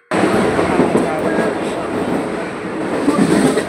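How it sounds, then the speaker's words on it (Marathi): A Mumbai local train rumbles loudly past the Bhayandar station platform, a dense continuous roar of wheels and carriages that sets in abruptly and holds steady throughout. "हे भाईंदर प्लॅटफॉर्मवरती उभे होतो आम्ही ट्रेनची वाट बघत."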